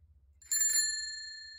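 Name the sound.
bicycle bell sound effect from Pixabay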